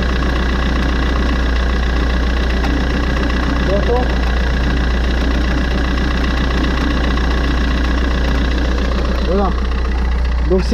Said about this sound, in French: C'est le roulement de l'alternateur qui est fichu.